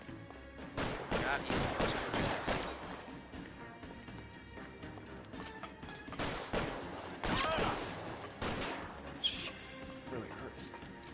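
Gunshots in L.A. Noire crack out in several loud bursts of rapid fire, separated by brief lulls, with someone talking over parts of the shooting.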